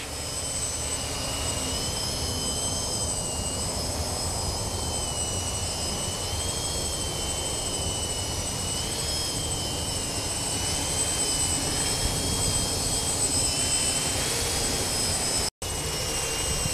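Steady, loud whine of an X525 quadcopter's electric motors and propellers during slow forward flight outdoors, a continuous drone with tonal harmonics that barely changes, ending with a brief dropout near the end.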